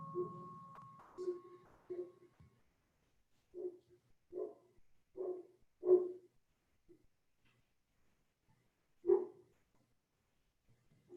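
A dog barks outdoors during an earth-based guided meditation, giving a series of short, separate barks in a loose rhythm with quiet gaps between them, at moderate distance against a near-silent background.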